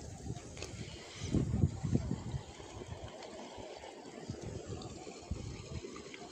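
Irrigation water flows steadily into furrows of an onion field beside garlic and cluster bean crops, a low, faint gushing and trickling that runs throughout with a slightly stronger surge early on.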